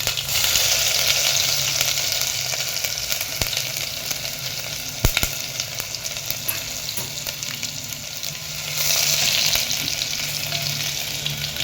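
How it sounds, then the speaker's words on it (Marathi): Mustard seeds, cumin and garlic sizzle and crackle in hot oil for a Puneri maswadi curry, a steady loud frying hiss throughout with a brief sharp pop near the middle. "इथं आपलं तेल गरम झालं मोहरी टाकूया जिरे लसूण"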